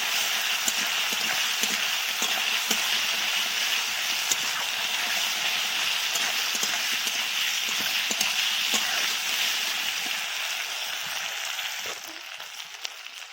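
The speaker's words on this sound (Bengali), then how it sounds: "এবার আমি আদা ধনে জিরে বাটা ছিল সেটা দিয়ে দিলাম। ভালো করে কষিয়ে নিচ্ছি।" Ginger, coriander and cumin paste frying in a pan for a rohu fish and taro curry, giving a steady loud sizzle like rain with faint scraping stirs throughout, easing slightly near the end.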